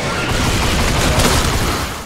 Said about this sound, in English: my gun was really just shooting that fast